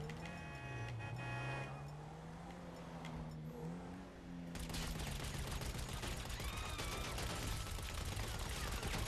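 Gunfire rattles during a GTA V video game match, with rapid bursts of shots under ongoing engine drone and game noise, growing busier and louder in the second half.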